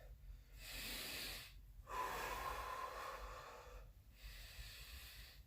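Heavy, slow breaths during a recovery-based workout of glute, ab and arm exercises, with long hissing inhales and exhales in close succession, faint and up close with no talking.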